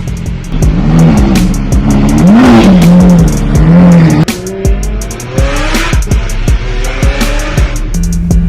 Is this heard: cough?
no